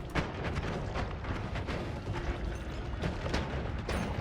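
Dense, rumbling explosion blasts from the video game Noita, a bomb going off among enemies, with repeated sharp bursts crowding together over a continuous roar at steady loudness.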